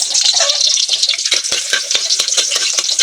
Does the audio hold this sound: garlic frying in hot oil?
yes